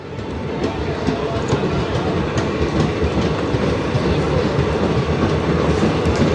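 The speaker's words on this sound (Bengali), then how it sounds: "ট্রেন এখন ছেড়ে দিচ্ছে" A Sealdah–Lalgola passenger train pulls away from a station platform with a loud, close, continuous rumble and rhythmic wheel clatter that holds steady throughout.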